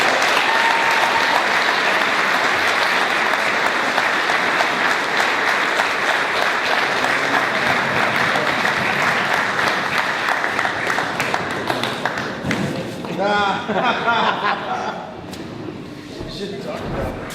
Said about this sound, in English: Can we give all of our toasters one more round of applause?